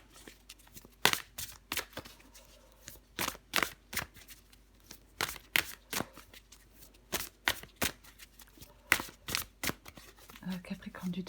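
Tarot cards being shuffled in a series of crisp, rapid riffling bursts, roughly a dozen sharp flurries spread evenly with brief pauses between them, close and clear with faint background noise.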